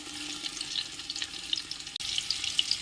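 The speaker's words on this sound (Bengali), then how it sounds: "ভেজে নেব হালকা করে আলু।" Potatoes fry lightly in a pot for chicken biryani, giving a soft, fairly quiet sizzle with scattered crackles and pops and a brief dip partway through.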